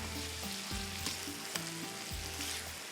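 Keema macaroni being mixed in a hot pan gives a steady loud sizzle and fry, with a spoon scraping and stirring through it at irregular intervals.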